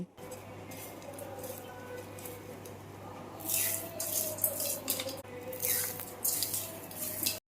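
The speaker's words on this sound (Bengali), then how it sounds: "আওয়াজ শুনে বুঝতে পারছেন বেরেস্তাগুলো কতটা মুচমুচে হয়েছে।" Crispy fried onions (beresta), made for a jackfruit biryani, are stirred and handled in a pan, giving dry crackling rustles that grow louder midway over a steady low kitchen hum.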